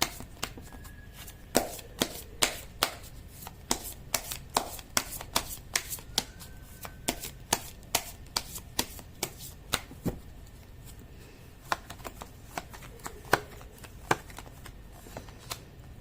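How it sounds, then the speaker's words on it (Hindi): A deck of tarot cards is shuffled by hand: a long run of quick, crisp riffling snaps and taps at close range, irregular but steady across the whole stretch, quiet and with no talking. "कर लेती हूँ कार्ड की शफलिंग।"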